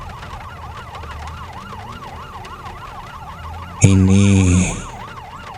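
An ambulance siren wails in a fast, regular up-and-down sweep on a cold, quiet night with light rain, heard steadily at moderate distance, then cut off by a sudden loud blaring horn-like blast near the end, with a brief spoken word.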